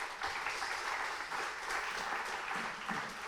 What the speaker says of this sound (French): je pense qu'on peut applaudir nos 3 intervenants.